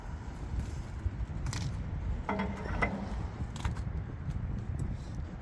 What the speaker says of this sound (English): Then need to come round and put the loader locking pins back in. Both sides.